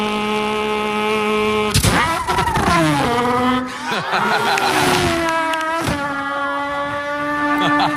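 A human voice imitating car engines, with buzzing revs that rise and fall, swooping pitch glides and abrupt shifts, like racing cars accelerating and changing gear. The sounds are loud, close and continuous.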